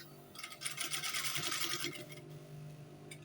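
Sewing machine running a steady stitching burst on trousers with a half-elastic waistband, close and fairly quiet, fading out near the end with no voices.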